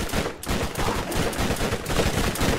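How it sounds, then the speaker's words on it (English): Rapid, continuous gunfire from Borderlands 1, loud and close, with dense overlapping shots and no pauses. "I'm shooting them right in front of me"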